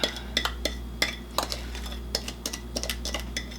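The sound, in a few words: mixing batter ingredients in a bowl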